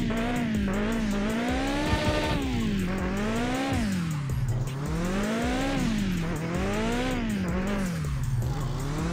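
A car drifts freestyle in the video game Mon Bazou, its engine droning and rising and falling in pitch in long sweeps while the tires squeal continuously through the slides, loud and close, with no speech.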